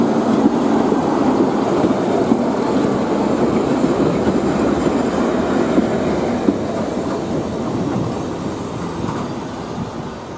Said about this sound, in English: we noticed the sight of a Class 101 Metcam DMU heading into the station